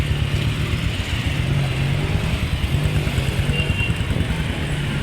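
Motorcycles and traffic rumble steadily in a congested street in Lambagar, Kathmandu, a continuous close engine drone with low idling pulses and no talking.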